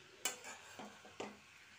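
Radish curry stirred in a pan, heard as a few soft, separate scrapes and taps of the spoon against the pan over a faint, quiet background.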